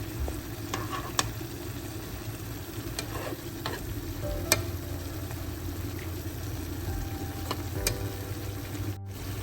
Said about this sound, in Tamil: பாலை விட்டுட்டு எல்லாத்தையும் முறுக்க சேர்ற மாதிரி கலந்து விடுவோம்